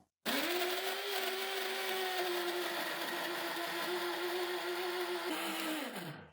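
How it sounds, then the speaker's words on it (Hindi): An electric grinder jar blends chopped strawberries with a loud, steady motor whir that runs for about six seconds, then spins down. "अब हम ग्राइंड करेंगे।"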